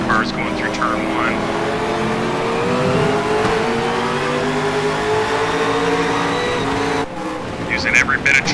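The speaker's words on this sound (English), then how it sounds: "Great shot of the cars going through turn 1." Race cars at Barbagallo Raceway roar through turn one, a loud sustained engine drone with shifting pitches as several cars pass and rev; a commentator talks over it.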